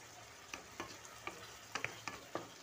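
Fried potatoes being stirred into a spice masala in a pan, with scattered scraping and clinking strokes about every half second over a soft, steady sizzle of frying.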